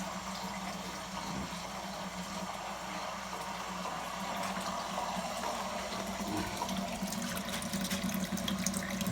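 Water drains steadily from a home water heater into a shallow pan, a continuous close rushing and trickling flow that holds level throughout with no speech.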